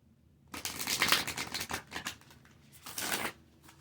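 An Alice in Wonderland oracle deck being shuffled, with a quick burst of crisp riffling and card slaps near the mic followed by a shorter second flurry, with no talking.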